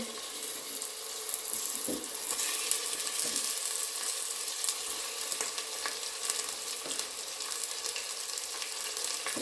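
Chicken sizzles steadily in a hot pan, a dense, loud frying hiss with a few soft clicks and scrapes, with no talking.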